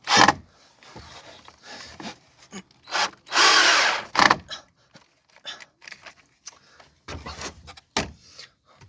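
A power drill drives screws into wood in short separate whirring bursts, one longer run near the middle, close up with pauses and handling clunks between.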